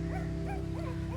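Dogs and small puppies, a mother among them, being fed raw meat, heard as soft whimpers and yips rising over a steady low hum, several short whines spaced through the moment.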